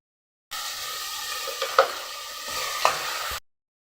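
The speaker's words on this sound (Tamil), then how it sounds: "தக்காளி கொஞ்சம் நல்லா வதங்கட்டும்." Tomatoes with ginger garlic paste sauté in a pan for a chicken gravy, a soft steady sizzle up close, broken by two brief stirring scrapes.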